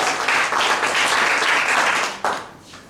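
Audience applause fills a church service, dense and steady clapping from a congregation lasting over two seconds before tapering off, with a brief burst near the end.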